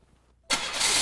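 A 1996 Buick engine cranks and catches after a half-second hush, bursting into a loud, steady roar that holds at full strength until the end, with no voices.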